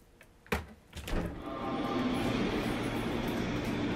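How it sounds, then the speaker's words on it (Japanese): JR Musashino Line 205 series 5000-number M35 electric train, heard from aboard as a few clunks give way to a steady, rising motor and wheel rumble that fills the cabin without talk. "府中本町行き、この電車がこの今まで武蔵野線で走ってきたこの川崎編成こと5000番台 M35 編成"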